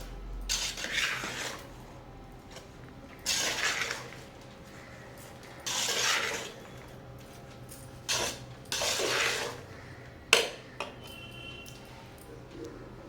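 Cooked rice is mixed with turmeric and salt for citron pulihora, heard as intermittent close scraping and squishing bursts of a spoon against a vessel, separated by quiet gaps.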